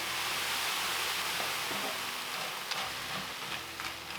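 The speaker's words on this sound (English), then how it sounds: "So I just add the entire package to my skillet here" A whole package of meat hits a hot skillet and sizzles loudly and steadily, a dense hiss of frying with faint stirring clicks throughout and no talking.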